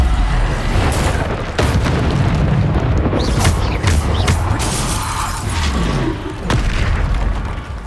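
Bombarda spell blasts go off in Hogwarts Legacy, a continuous barrage of deep booming explosions with crackling bursts and sharp hits layered over rumbling game music.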